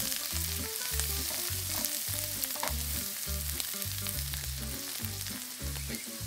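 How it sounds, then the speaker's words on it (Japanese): Butter melting and sizzling in a frying pan before eggs go in for a mushroom omelette, a steady close frying crackle with a strong rhythmic low thumping tone running through the whole stretch. "バターしっかり溶かします。"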